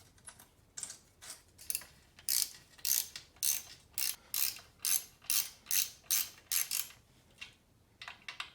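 Ratchet wrench clicking as bolts are tightened on the engine head of a Yamaha PW80 dirt bike, a close series of about fifteen rhythmic bursts of quick clicks with brief pauses between strokes.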